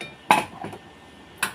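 A metal spoon set down among plates and dishes in a home kitchen, giving two clear clinks close together and a third a moment later, each sharp and short against a quiet room.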